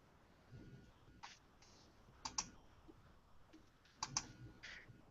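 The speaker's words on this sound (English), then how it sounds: "Hold on, I'm typing something in the room." Someone types on a computer keyboard in a quiet room, producing soft scattered key taps with a few sharper clustered clicks, faint and close, with no voices.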